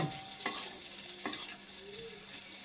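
Food frying in a pan is stirred, with a steady sizzle running throughout and a couple of quick scraping strokes of the utensil; no talking.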